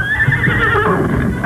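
A horse neighs loudly and close up in a 1984 Australian TV paint commercial, one long whinny with a faint clip-clop of hooves beneath it and no talk.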